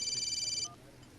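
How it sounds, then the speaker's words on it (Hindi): A phone rings in a Bollywood comedy film: a bright electronic ringtone tone for about two-thirds of a second, then it cuts off and leaves a quiet room with faint low rumble. "Excuse me, जरा फोन आ गया।"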